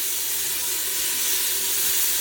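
Beef browning in a pot for a Hawaiian-style beef stew, giving a steady, close, loud sizzling hiss that holds evenly from start to finish with no talking.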